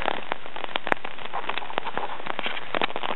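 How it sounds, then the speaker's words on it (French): Steady rain falling during a December camp in the Ardèche hills, enveloped in cloud; a dense, continuous patter with scattered sharper drop hits close by, no voices. "Il pleut."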